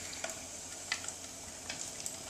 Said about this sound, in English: You can hear that oil cracking. You know that it's a good temperature then.